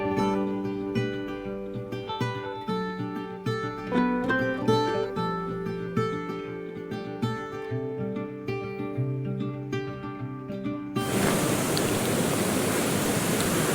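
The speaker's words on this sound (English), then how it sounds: "see we're hitting the top of the waterfall" A Lake District waterfall enters after a stretch of music, a dense, steady rush of falling water that holds loud and even to the end.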